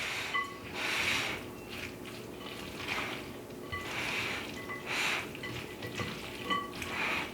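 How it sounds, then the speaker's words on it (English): Bacon green bean salad with red pepper and red onion being stirred and tossed to coat, giving soft repeated scraping and swishing strokes in a steady rhythm, close and fairly quiet, with no talking. "just give this a really good stir. Get everything coated"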